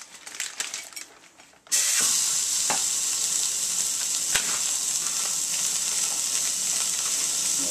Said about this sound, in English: let it thoroughly brown on one side. I won't turn it over until the moisture has boiled off